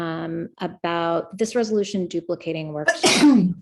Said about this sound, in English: Little sneeze relief.